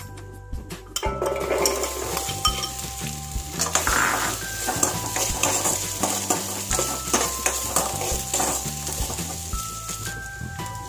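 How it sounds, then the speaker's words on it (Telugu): Taro pieces fry in oil in a pan with a continuous close sizzle, while a utensil stirs and clinks against the metal in irregular scrapes and taps. "ఈ చామగడ్డ ముక్కలని వేరొక ప్యాన్లో ఉడికించుకుందాం ఆయిల్ని వేసుకుందాం"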